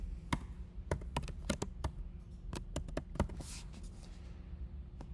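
Someone types a name on a computer keyboard, a quick irregular run of crisp key taps, close up over a low background hum.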